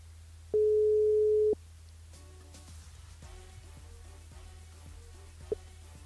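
A phone line rings out while calling a listener: one steady ringback tone lasting about a second, then faint line hiss with a few soft clicks and a short blip near the end.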